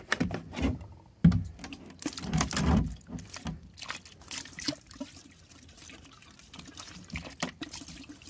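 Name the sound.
pouring antifreeze into swimming pool plumbing hole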